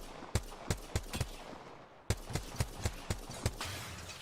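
Gunfire in the Apex Legends battle royale game: about a dozen sharp, loud shots in an uneven rhythm with a short pause midway, over a steady background hiss.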